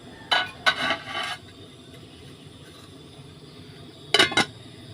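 A metal lid goes onto a pot of cooking pork in a Thai bamboo-shoot curry with coconut milk and yanang leaves, giving a few close clinking, scraping rattles, then a pause before another quick pair of metallic clanks.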